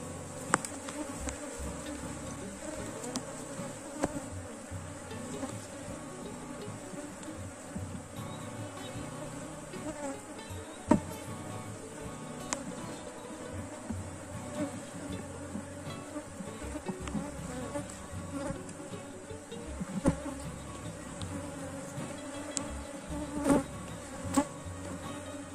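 A swarm of bees buzzing around an open beehive, a steady, close drone that continues throughout with occasional louder passes and small knocks from handling the hive frames.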